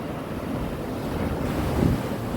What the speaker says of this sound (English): Look how violent the sea can be.